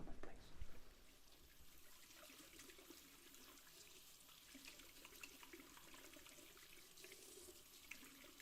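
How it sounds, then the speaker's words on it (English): Water runs steadily from a tap into a sink while hands are washed, a close, continuous splashing trickle after a brief louder burst at the start, heard without talk. "Let me just give my hands a quick wash. Actually, no, I'll use this sink."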